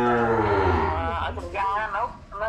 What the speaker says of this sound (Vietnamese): Chúng ta có thể mua đôi bò này về.